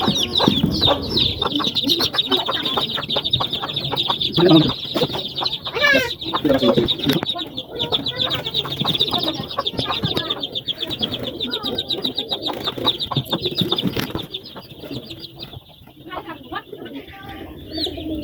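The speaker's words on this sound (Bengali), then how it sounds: "আমার এক দেশি মুরগির এই এগারোটা বাচ্চা" Desi hen and her chicks make busy clucking and high peeping calls close by, a steady run of chick cheeps over the hen's low clucks throughout, with a person talking intermittently.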